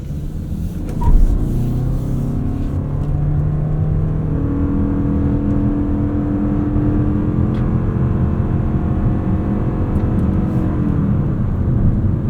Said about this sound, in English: Let's see what power delivery feels like going uphill.